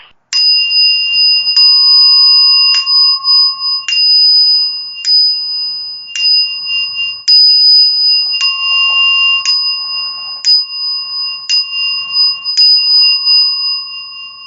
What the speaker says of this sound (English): So I'm just going to ring the bell for all those that have gone on.